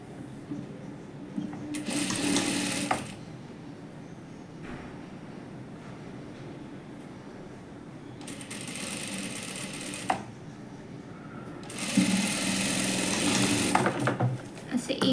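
A sewing machine stitches a size-40 princess-cut blouse, joining the main fabric and the lining. It runs in three close, loud bursts of whirring with quieter pauses between them, and a low murmur of talk sits underneath.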